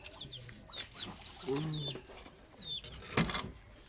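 Several chickens cluck and chirp nearby in short scattered calls, with a louder squawk near the end over a quiet background.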